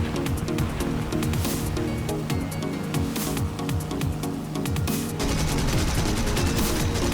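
Rapid bursts of 20mm cannon and quad machine-gun fire from a low-tier heavy fighter in the War Thunder air combat game, loud and nearly continuous, layered over a steady engine drone with no speech.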